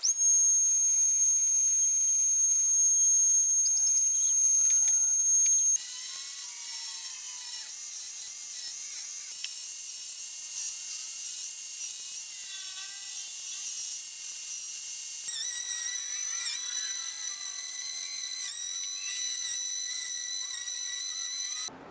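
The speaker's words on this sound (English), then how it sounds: "right now I've broken out my Dremel tool" A Dremel rotary tool carves details into wooden Halloween candle holders, producing a steady high-pitched whine that shifts pitch in several distinct stretches as the speed and load change.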